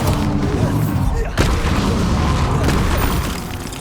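Bombarda explosion spell in the Hogwarts Legacy video game: a heavy booming blast that rumbles on for several seconds, with a sharp crack partway through before the sound fades away.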